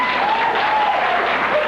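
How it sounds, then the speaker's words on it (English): Steady applause from an audience at a 1993 political debate fills the whole moment, dense and continuous clapping at even loudness with no voices standing out. "let's hold the applause, please"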